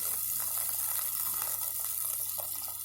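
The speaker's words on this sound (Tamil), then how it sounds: "இப்போ நம்ம புளி கரைசல் சேர்த்துடலாம்" Tamarind water being poured into a pan of sundakkai kulambu, a turkey berry curry, giving a steady, close hissing splash with a faint hum underneath and no talking.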